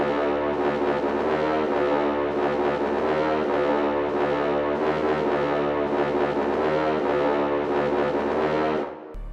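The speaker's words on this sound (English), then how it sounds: "I picked this instrument from Expand called Producer Brass." A Producer Brass synth preset from Expand plays a dark trap pattern, a thick, buzzy brass chord repeating in steady pulses with no voices, cutting off sharply at the end.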